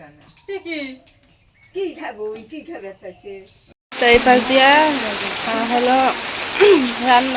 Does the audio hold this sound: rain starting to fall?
yes